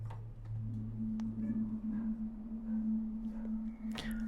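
Free Spitfire Labs synth pad holding a sustained low tone, steady and smooth with a soft swell, played alone at a moderate level for an indie folk arrangement.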